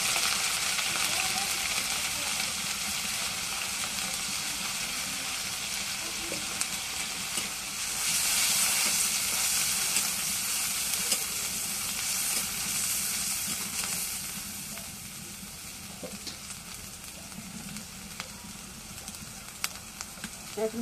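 Onion paste and mustard paste fry in a hot pan while Bengali mustard hilsa is being cooked, giving a steady, close sizzle with occasional pops and stirring scrapes throughout.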